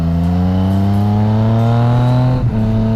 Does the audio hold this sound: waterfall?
no